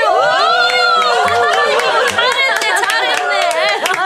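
A crowd in a radio drama cheers, shouts and claps after a sparring bout, a dense, loud wash of many voices that continues steadily throughout.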